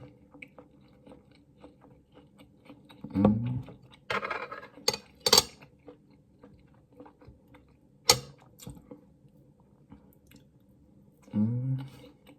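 Ukrainian salo eaten with raw onion and bread: quiet close-up chewing and crunchy bites in a few separate bursts, with soft clicks between them and long near-silent pauses.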